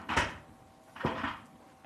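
A chair shifted on a live stream bangs twice, two short, loud knocks about a second apart, with no squeak and no talking.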